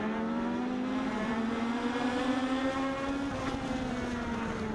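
Legends race cars roar together through a heat race at Meridian Speedway, a dense, continuous engine drone with shifting pitch as the pack runs close, loud and steady without a break.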